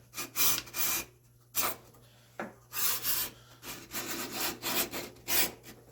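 A homemade cabinet scraper drawn across wood raising shavings, its freshly sharpened blade set a little deeper; close, rasping strokes come in repeated bursts with brief pauses between them.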